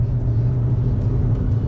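Car engine droning steadily from inside the cabin while accelerating on the Autobahn during a driving lesson, a loud continuous low hum with road rumble throughout.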